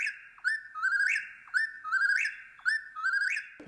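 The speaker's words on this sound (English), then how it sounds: "It's a bird whose song sounds like it's saying," A whippoorwill sings its repeated three-part whistled call, about four phrases in quick rhythmic succession, clear and fairly close with no talking.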